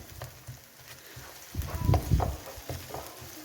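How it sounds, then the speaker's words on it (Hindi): Ginger garlic paste frying in a pan for a pea, cauliflower and potato curry gives a soft, steady sizzle. It swells louder and denser for a second or so midway, then settles back to a low hiss. "अब अदरक लहसुन को इसके साथ भुनेंगे।"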